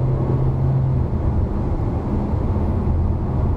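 A steady broadband roar of road and wind noise fills the cabin of a Hyundai Kona Turbo cruising at 110 km/h on a highway, constant and fairly loud with a low hum.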